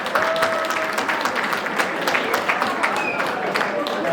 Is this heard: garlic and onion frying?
no